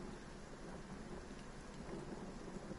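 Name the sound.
heavy rain with distant thunderstorm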